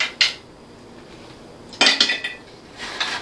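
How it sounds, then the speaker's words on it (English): Hardtack biscuits are dropped into glass jars, giving a few sharp, hard clinks and clatters in separate bursts, close by and fairly quiet, with no voices. "You hear that noise as I drop them in there? That's why they call it hardtack."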